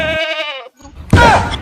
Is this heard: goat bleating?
yes